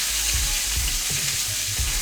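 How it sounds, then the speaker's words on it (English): Tri-tip steak sears in a hot pan, a loud, continuous close sizzle with a few low thumps and shifts underneath. "So, I'll just sear it on each side."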